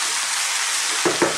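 Spinach and mushrooms cooking in a pan over fairly high heat, a loud, steady hiss of sizzling moisture broken near the end by a few soft clanks of stirring.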